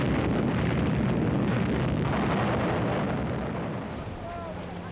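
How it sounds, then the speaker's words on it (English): World War II artillery bombardment and explosions before a shore assault: a dense, continuous roaring rumble of distant blasts that holds steady, then slowly eases near the end. "Under cover of the bombardment,"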